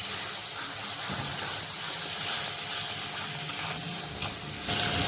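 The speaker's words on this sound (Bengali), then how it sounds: "এই যে সিদ্ধ করে রাখা মটর দিয়ে দিচ্ছি" Boiled peas tipped into sizzling masala in a pan for matar paneer, a loud continuous hiss and frying crackle close by, with a couple of small knocks from a spoon.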